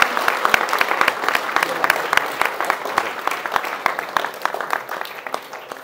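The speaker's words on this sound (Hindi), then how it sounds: "दिल से तालियां बजाएं ताकि पता चले।" An audience in a hall applauds steadily for several seconds, a dense patter of many hands with sharp individual claps standing out, fairly loud and close, with faint crowd murmur underneath.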